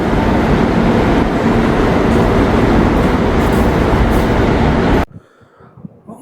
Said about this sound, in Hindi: मेट्रो स्टेशन पे, और गाड़ी अभी आने वाली है